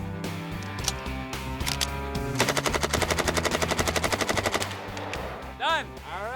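Rapid bursts of automatic gunfire from a firearm fired in a timed test across four magazines, a long steady stream of evenly spaced loud shots with brief pauses, ending in a short mechanical rattle.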